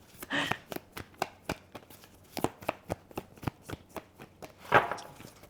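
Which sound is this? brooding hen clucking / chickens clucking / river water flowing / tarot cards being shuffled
tarot cards being shuffled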